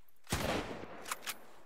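A single gunshot in the video game Sunkenland, a sharp crack followed by a rolling decay, then two fainter shots or impacts shortly after.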